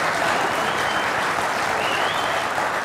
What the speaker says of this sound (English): So you all applaud